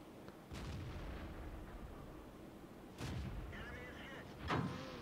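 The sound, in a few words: tank gunfire in the video game World of Tanks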